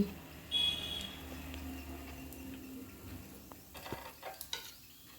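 Kara paniyaram cooking in a pan gives a steady, close sizzle and crackle of frying, joined by scraping and clinking of a utensil against the pan toward the end.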